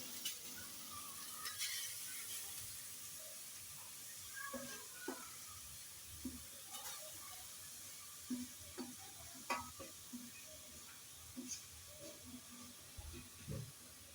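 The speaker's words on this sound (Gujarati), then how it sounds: "હવે આ ગાજરનો બધા ટુકડા આમાં નાખવાના।" Carrot pieces frying in ghee for gajar halwa, a faint, steady sizzle with soft stirring scrapes and occasional clinks, heard close without talk.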